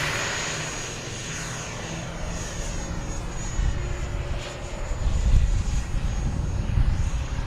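E-flite F-16 70mm electric ducted-fan RC jet making high-alpha passes: a steady whooshing, whining roar that holds throughout and swells louder in the second half as the model comes closer, with no voices.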